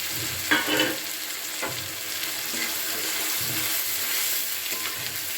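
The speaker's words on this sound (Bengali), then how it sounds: "কিছুক্ষণ মশলাটাকে কষিয়ে নিচ্ছি মশলাটা কিছুক্ষণ আমি কষিয়ে নিয়েছি" A paste of ginger, garlic, onion and tomato fries in a pan, giving a dense, continuous close sizzle with a few spatula scrapes and knocks scattered through it, and no one speaking.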